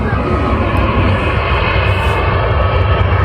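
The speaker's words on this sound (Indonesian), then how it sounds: "Oh, pesawat lagi." Airplane passing overhead near Abu Dhabi airport, a steady, loud broadband engine roar that holds throughout without breaks.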